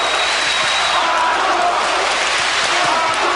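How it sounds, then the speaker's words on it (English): A loud boxing arena crowd roars and chants continuously for a fighter in white trunks, a dense, steady wall of voices filling the whole stretch. "The crowd chanting for Arthur Abraham in the white trunks."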